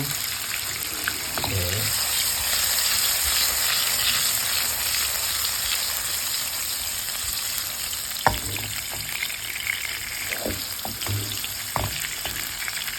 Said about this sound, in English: So what we are doing here is tempering the tofu.